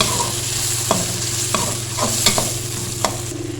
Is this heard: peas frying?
yes